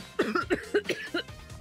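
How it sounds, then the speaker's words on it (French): Several quick, harsh coughs in a row, close and loud, fading into softer breathy bursts at the end. "s'est soudainement levé et s'est mise à tousser fort"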